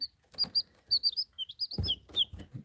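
Young chicks chirping in a brooder, a run of bright high peeps in quick bursts, fairly close, with soft bumps and handling noises in between.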